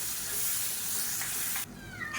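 Ground masala paste sizzles and hisses as it is sautéed in hot oil for a Tamil-style instant kuzhambu, a loud, steady close-up hiss that suddenly drops away near the end.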